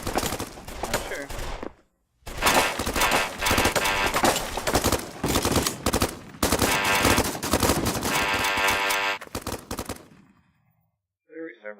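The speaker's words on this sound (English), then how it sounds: "They're like continually shooting me." Sustained automatic gunfire in a video game pounds out in long, dense bursts split by brief pauses, loud and close, before cutting off into near silence.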